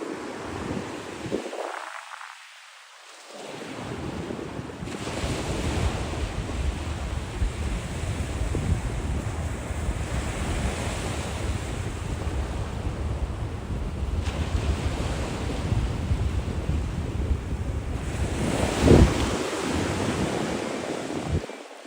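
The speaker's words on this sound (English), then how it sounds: "Love the sound of the sea" Sea waves wash steadily onto the shore at Coney Island, Brooklyn, with a broad continuous roar and gusts of wind buffeting the microphone, and a brief louder break of surf near the end.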